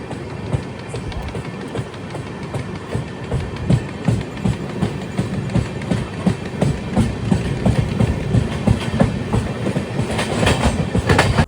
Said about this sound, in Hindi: चलो 2 मिनट के स्टॉप के बाद अपनी ट्रेन निकल गई अभी मानिकपुर जंक्शन से